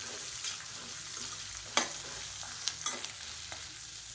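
Carrot chutney ingredients with tamarind and onion sauté in a pan, a soft continuous sizzle punctuated by scattered scrapes and taps of a spatula being stirred.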